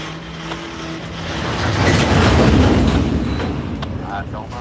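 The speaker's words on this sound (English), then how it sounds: "That is the train directly in front of you." Freight train rolling through the DeButts rail yard, a broad steady rumble and rail noise that swells in the middle and eases off, with faint distant voices underneath.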